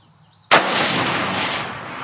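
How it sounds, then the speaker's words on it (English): A single rifle shot cracks at a long-range target, a sudden sharp report close and loud after a quiet moment, followed by a long echoing rumble that lingers. "I'm going to take my last shot."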